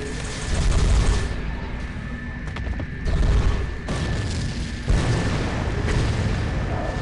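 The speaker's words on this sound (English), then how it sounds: "That is my tank that I'm about to blow up." A tank exploding in the video game Advent Rising: a run of loud, close booms and blasts, several heavy thuds spaced a second or two apart over a constant rumbling background.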